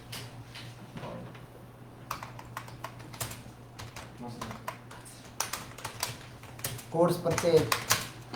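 Keys clatter on a computer keyboard in short irregular bursts during an accounting entry in Tally software, soft and close, with someone speaking Hindi between and over the typing.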